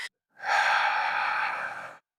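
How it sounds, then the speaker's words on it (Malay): A single long, slow breath out during a breathing exercise for relieving pain behind the eyes, a soft airy rush lasting under two seconds after a brief intake, close to the microphone. "Ketika kita melepaskan nafas, letakkan tangan di dada dan hembuskan nafas dengan perlahan-lahan."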